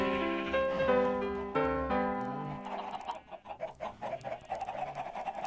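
Chickens clucking in Minecraft with the ATM8 modpack, a few harmonic clucks and squawks up front followed by a busier, choppy burst of game sounds as the birds react, fairly loud and close with no talk.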